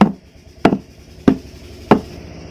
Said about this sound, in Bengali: এবার এইভাবে একটু ঝাঁকুনি দিয়ে দিতে হবে তাহলে কি হবে এর মধ্যে যদি কোনো বাতাস থাকে তা বেরিয়ে যাবে